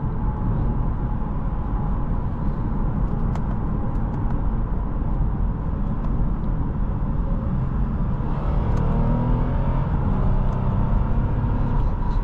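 A 2015 Lexus IS 250 with about 140k miles and a torque converter automatic drives and accelerates, its engine and road rumble steady and close throughout, with a deeper surge of engine note in the final seconds.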